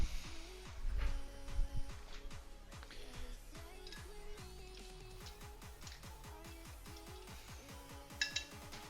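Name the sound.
dishes clinking while loaded into a dishwasher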